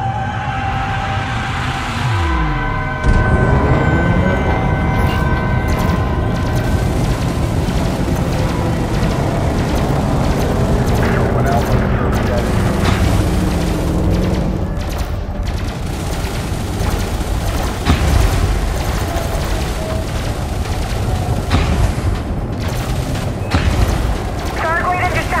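A large target blowing up in the space game Elite Dangerous during a Thargoid conflict: a loud rolling boom that sets off a long, dense stretch of crackling detonations and rumbling blasts over about 25 seconds.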